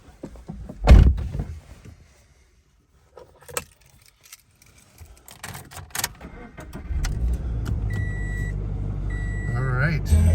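A 2014 Scion FR-S with a 200 hp H4 boxer engine and six-speed: keys jangle and a door thumps, then the engine cranks and settles into a steady, close idle rumble.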